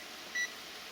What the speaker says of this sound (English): set the timer again for